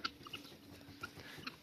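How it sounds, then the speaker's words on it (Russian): Chickens gathered at feeding time give soft, scattered clucks and chirps in a quiet farmyard, faint and irregular with no talking. "Куры"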